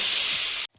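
Water poured into a hot pan of frying black cumin and onion sends up a loud, sharp burst of hissing steam that holds for well under a second and then cuts off abruptly.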